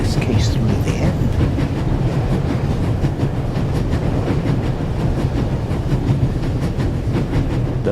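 Moving train in the video game The Raven Remastered, heard as a loud, steady rumble with a faint rhythmic clatter running unbroken through the whole stretch.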